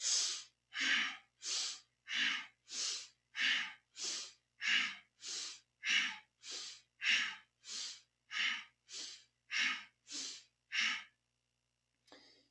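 Powerful rhythmic breathing during a kundalini yoga twisting exercise for the back, heard as about seventeen forceful, airy breaths at a brisk, even pace. They are close and clear with no talking, then stop abruptly near the end.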